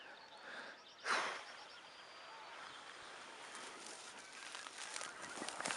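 Geese honking in flight over the sea during a spring hunt, faint distant calls scattered through steady wind and water noise.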